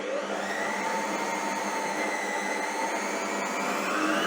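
Electric hand mixer whipping three egg whites for a sugar glaze for Easter kulich, a steady, loud motor whine running unbroken throughout with no voices.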